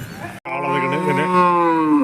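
A bull at a cattle market in Chattipparamba gives a loud, close, drawn-out moo that starts after a brief pause and swells slightly toward the end.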